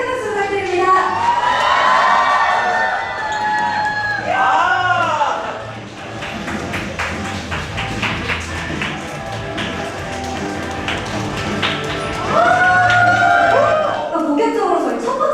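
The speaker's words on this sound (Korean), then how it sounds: "큰 박수 부탁드립니다" A crowd at a Hanwha Life Esports Worlds send-off event cheers, shrieks and claps loudly for player Zeus. Bursts of high-pitched cheering open and close the clip, with sustained applause between them.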